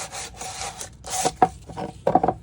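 80-grit sandpaper is worked over wooden edges to distress them, giving a few close, loud, rough scraping strokes in separate bursts with short pauses between.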